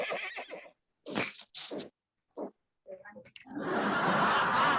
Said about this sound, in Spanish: Un caballo, muy bien.